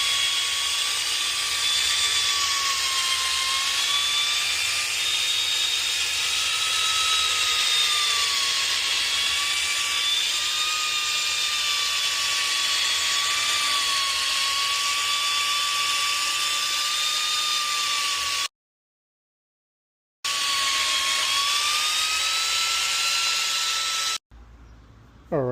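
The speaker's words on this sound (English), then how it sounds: "I buffed it with rubbing compound" A power buffer whines steadily while polishing a Jeep's paint with rubbing compound, a loud close continuous tone that wavers slightly in pitch under light pressure, cut briefly by a short gap and ending abruptly, with no talk.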